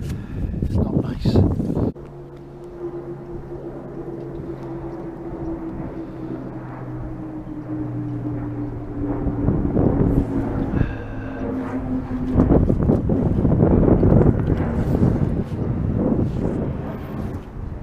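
Wind buffets the microphone at Lechlade Trout Fishery, a continuous low rumbling roar that swells in gusts, with a steady drone under it and brief bursts of handling noise.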